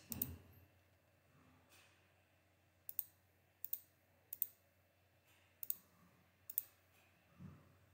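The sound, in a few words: computer mouse clicking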